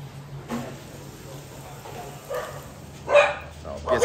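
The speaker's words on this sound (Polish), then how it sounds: "No, pieski się awanturują." Dogs bark and squabble at a street food spot in Vietnam, with several short yelps and barks spaced through the clip and a louder cluster near the end.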